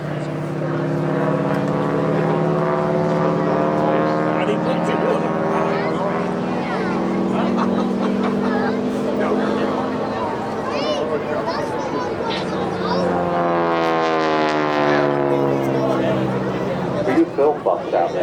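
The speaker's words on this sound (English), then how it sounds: "when it's flying away, it sounds of that beautiful Pratt & Whitney radial engine" A WW2 Harvard aircraft's Pratt & Whitney radial engine drones steadily as it passes at an airshow, its pitch sliding downward as it moves away, loud and continuous.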